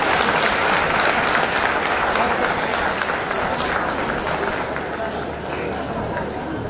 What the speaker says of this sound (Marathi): त्याच्यासाठी एकदा टाळ्यांचा गजर करावा.